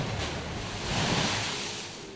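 Pacific Ocean surf rolls in as a broad, wind-blown wash of waves that swells in the middle of the clip and then eases, steady and fairly close with no voices.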